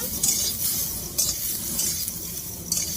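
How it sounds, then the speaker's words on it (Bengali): Cauliflower lightly fries in a pan for vegetable khichdi, with soft sizzling and several distinct scraping stirs at irregular intervals. "ফুলকপিটা ভাজা হয়ে গেছে"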